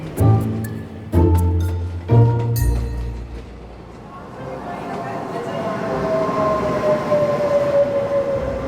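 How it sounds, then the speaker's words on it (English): A single-decker train pulls into a European station, its low rumble building into a long, rising metallic screech of brakes. Sharp knocks and clatter come first, with voices heard now and then. "I think I hear his train"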